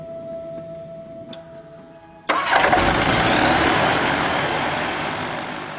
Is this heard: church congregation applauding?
no